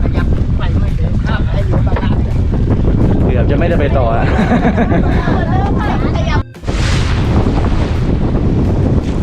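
Strong wind and rough waves buffet a boat at sea, a loud constant roar of wind on the microphone with splashing water, while people talk over it throughout.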